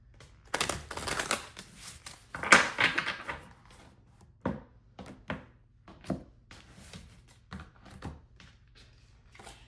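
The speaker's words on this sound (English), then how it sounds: "Y'all see me shuffling these cards." Playing cards being shuffled by hand in a run of riffles and riffle bursts, close and crisp, followed by a series of soft taps and thunks as the deck is squared and handled.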